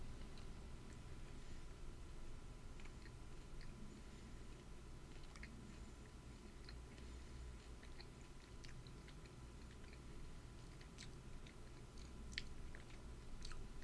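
Someone chewing a carob bar, a chocolate substitute, with steady soft crunching and mouth sounds up close over a constant low background hum, no talking.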